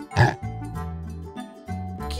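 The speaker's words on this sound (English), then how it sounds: "Pig." Cartoon pig oinking in a children's dinosaur cartoon, a short bright grunt followed by tonal musical sounds, clear and close in a 2-second burst.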